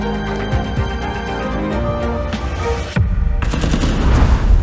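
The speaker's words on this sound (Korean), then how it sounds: "핸드폰 게임의 총소리를 이용해" Rapid gunfire sounds from a mobile phone game play in bursts, tonal electronic shots and bursts layered over a droning background, growing louder and harsher toward the end.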